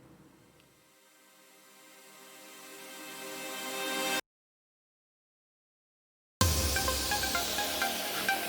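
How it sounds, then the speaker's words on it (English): A reversed section of a big room house track swells steadily louder into a sweeping build-up, cuts abruptly to silence for about two seconds, then the punchy music returns at full level. "reversed it to create kind of like a build-up sweeping effect"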